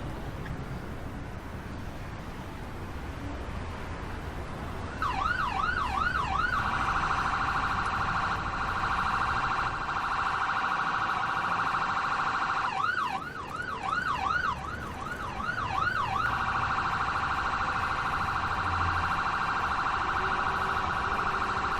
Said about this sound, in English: we're just waiting on the ambulance getting here from the hospital